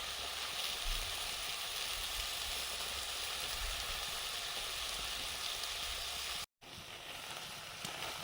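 Crabs frying in mustard oil in a pan, a steady close hiss and crackle of sizzling that continues evenly, briefly cut off near the end before resuming.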